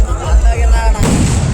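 Firecrackers bursting at a Pavalathampatti Malayanoor festival: loud, close blasts with booming low rumble, one sharp crack near the middle and a rough roar continuing after it.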